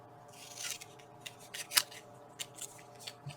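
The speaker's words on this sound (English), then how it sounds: "and quickly trim it out." Scissors cut out a paper flower for a scrapbook media board, producing quiet, close snips in an irregular run with one sharper cut partway through and no talking.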